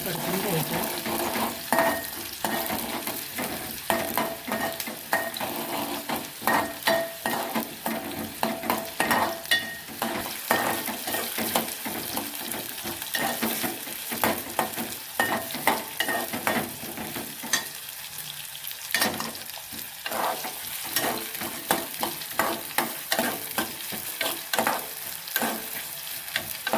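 Wet masala paste sautéing in a pan, a continuous loud sizzle broken by frequent scraping strokes of a spatula in an uneven rhythm throughout.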